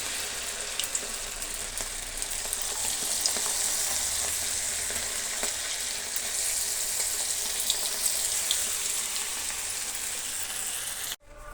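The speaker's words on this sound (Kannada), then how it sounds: "ಆಮ್ಲೆಟನ್ನು ಎಲ್ಲ ಫ್ರೈ ಮಾಡ್ಕೊಂಡಿದ್ದಾಯಿತು" Egg omelette fries in a pan, giving a continuous quiet hiss with scattered small pops and crackles, close and even throughout, then cut off abruptly near the end.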